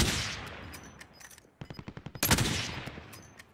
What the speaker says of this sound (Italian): Ci sparano dal fianco.